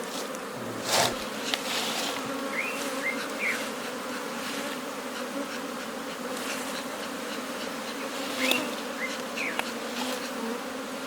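Bees buzzing inside a village beehive where the comb is still being built, a steady close drone with individual insects whining past now and then, no talk.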